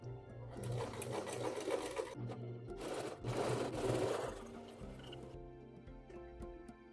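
Sewing machine stitching fabric on a beginner's first sewing project, a close steady mechanical hum with rapid needle chatter in two bursts, then slowing and stopping with light handling sounds.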